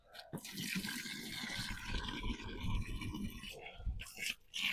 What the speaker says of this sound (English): Just get a load of water in there, Matt